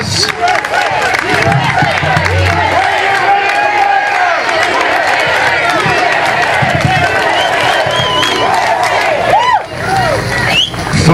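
A large outdoor crowd at a liberty rally cheers and whoops loudly, with clapping and overlapping shouted voices filling the air continuously for several seconds.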